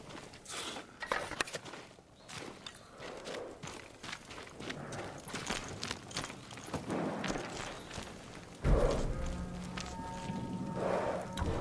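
Samurai horses in the video game Ghost of Tsushima clop unevenly on hard ground as they shuffle and walk nearby, with thuds and a louder rustling burst toward the end.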